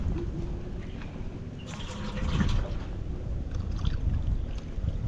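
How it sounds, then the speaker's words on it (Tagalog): A boat motor approaches from a distance as a low, steady drone mixed with splashing water and wind, growing somewhat fuller partway through. "Naririnig ko na yung motor ni Kuya Amang."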